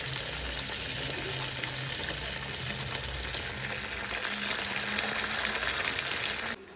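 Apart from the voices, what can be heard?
chicken pieces frying in hot oil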